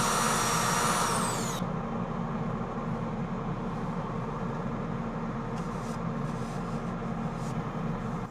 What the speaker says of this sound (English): I trimmed down the 2-inch soft pad to about 1 3/4 so the edges of the sandpaper float through the curves without digging in.